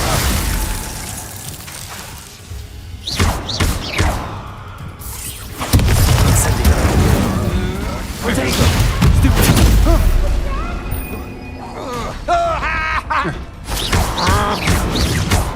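Spell combat in Hogwarts Legacy, with icy Glacius casts among booming blasts and crashing impacts, loud and layered over a busy battle with voices shouting throughout.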